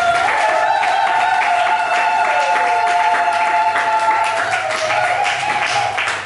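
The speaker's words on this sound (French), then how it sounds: "Est-ce qu'on peut acclamer encore pour nous?" A church congregation at a pastor's consecration service claps in a sustained, even round of applause, with steady sustained tones underneath.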